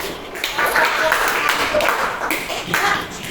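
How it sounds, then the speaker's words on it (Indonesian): A classroom group claps after a student's presentation in an Islamic religious education lesson, a dense patter of hand claps that rises and falls over about three seconds, with some voices mixed in. "Tepuk tangan."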